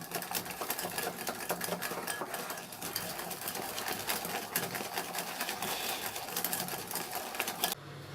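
An electric mixer beats whipped cream with powdered sugar in a home kitchen, giving a steady, close, high whirring buzz that carries on throughout before it cuts out at the end.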